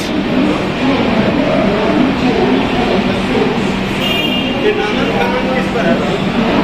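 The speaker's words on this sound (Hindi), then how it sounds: "यहाँ से आनंद विहार से नई दिल्ली की तरफ जाते हुए राजेंद्र नगर टर्मिनल से चल के नई दिल्ली तक जाने वाली पटना तेजस राजधानी एक्सप्रेस" Patna Tejas Rajdhani Express train passing through Anand Vihar station, a loud, steady rumble of wheels and rushing air that fills the whole stretch without a break, with voices mixed in.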